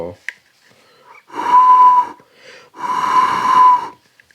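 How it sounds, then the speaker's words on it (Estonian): A breathy, wheezing whistle sounds twice through a hole in a Peltonen M07 rifle part, each tone lasting about a second with a short pause between, close and fairly loud. "mingit huuleasendist ma saan siit kogemata vile kätte"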